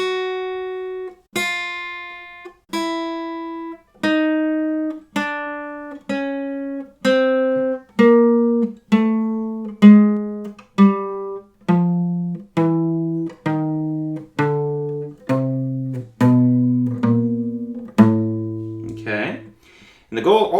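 Single electric or acoustic guitar notes are picked one at a time in a slow, even finger warm-up exercise, each ringing briefly as the pattern steps through the strings.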